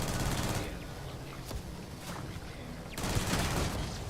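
Rapid turret gunfire in the sci-fi game Starfield: Shattered Space, a dense, sustained barrage that dips midway and surges back loud near the end, with no talk.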